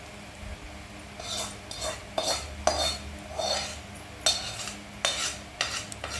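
A spoon stirs oil into mango pickle in a metal vessel, giving repeated scraping clinks and taps in an irregular rhythm, close and moderately quiet, with no talk.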